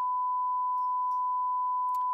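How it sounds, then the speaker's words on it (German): A test oscillator in mixing software emits a steady, continuous pure sine-tone beep at a constant pitch, clean and unbroken throughout. "dann wird es gleich erstmal fürchterlich piepsen nur"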